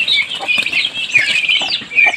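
Chickens in pens on a farm in Maragusan, Davao de Oro, clucking busily as wings flap and rustle, a close, dense flurry of squawks and fluttering with no talk.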